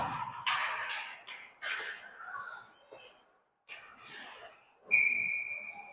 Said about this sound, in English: We'll have a whistle here.